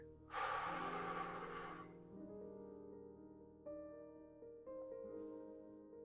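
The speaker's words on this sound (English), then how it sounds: "I'm breathing out my mouth on the exhale, only so you can follow along and hear me" One long, close exhale through the mouth rushes out during a calming stretching routine, then fades to quiet with faint soft tones underneath.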